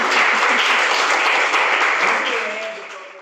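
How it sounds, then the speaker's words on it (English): A conference audience gives sustained applause for speakers at a talk on grant applications, a dense wash of clapping that tapers off toward the end. "I want to give our speakers a round of applause."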